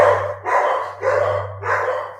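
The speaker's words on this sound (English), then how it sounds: "Sorry about the dogs" Several dogs bark indoors in three or four rough bursts about half a second apart, fairly close and loud over a steady low hum, with no talking.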